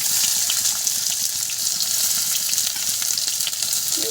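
Onions frying in hot oil with a bay leaf in a kadai, a loud continuous hiss and crackle that holds steady throughout with no one talking.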